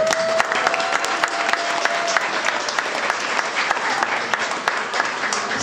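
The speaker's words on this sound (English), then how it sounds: "Congratulations and applause to Belize." An audience at a Belize independence anniversary exhibit applauds with brisk, sustained clapping, sharp individual claps standing out, and a brief voice or tone heard early on.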